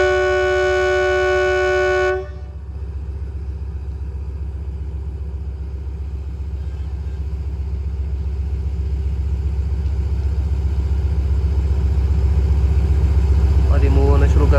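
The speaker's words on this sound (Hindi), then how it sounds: "फाइनल विसल बजाते सारी ट्रेन मूव होना शुरू हो जाएगी" A train's horn blasts loudly at Drigh Road railway station as the train departs, a steady tonal blare of about two seconds followed by a low rumbling engine that builds as the train starts moving.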